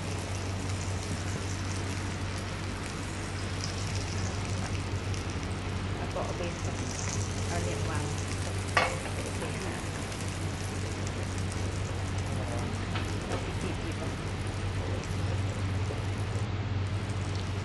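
Butter sizzles and crackles steadily in a hot grill pan, a constant frying hiss with a low background hum and occasional small pops.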